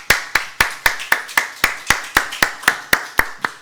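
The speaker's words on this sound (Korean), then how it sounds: "저희가 이 시간 하나님께 오직 감사와 찬양의 박수 먼저 올려드렸으면 좋겠습니다" A church congregation at a morning worship service claps hands in praise, a steady run of about fourteen sharp, evenly spaced claps, close and loud with no voices over them.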